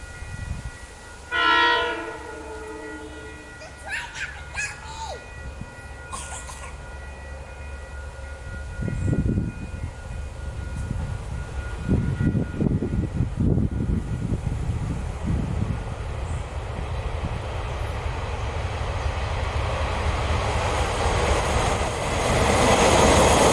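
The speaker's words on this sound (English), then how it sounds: "Today I want to talk about the train that goes right past here, the Coastal Pacific it's called these days" Coastal Pacific passenger train passing a church, opening with a loud blast of its horn, then a quieter lull before the rumble and clatter of the carriages builds steadily and stays loud as the train rolls by.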